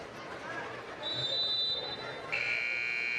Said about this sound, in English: And there is the buzzer.